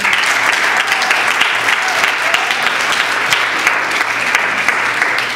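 Audience applause at an International Archives Day event in a Tampico cultural centre: steady, loud, sustained clapping from a sizable crowd that fills the whole stretch, with a faint hum beneath it.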